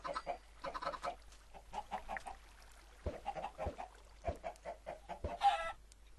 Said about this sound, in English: Give some to all these chickens that I have.